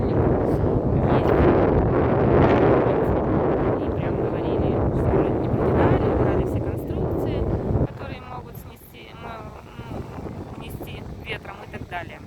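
Strong wind buffets the microphone at a crowded beach, a loud, rumbling roar for about eight seconds that then eases to gentler gusts, with faint voices in the background.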